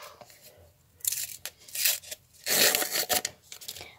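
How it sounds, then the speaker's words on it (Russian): A small paper blind surprise packet being torn open, several brief ripping and crinkling bursts with quiet gaps between, the longest and loudest tear near the end, close up with no talking. "давайте же распакуем этот пакетик"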